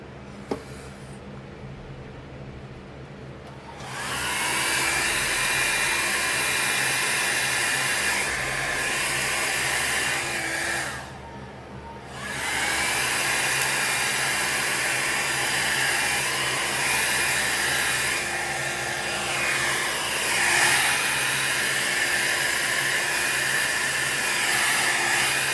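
A hair dryer blows steadily to dry alcohol ink on holographic sticker film, its loud broadband whoosh running continuously with one brief cutoff partway through, with no talking.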